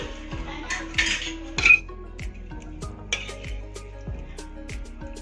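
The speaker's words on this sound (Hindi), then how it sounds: "फिर से हम चावल डालेंगे, सारे फैलाते हुए डालना है हमको।" Rice is spread into a pot while layering kheema biryani, giving a few close clinks and soft scrapes of a utensil against metal cookware, with a faint steady background hum and no talking.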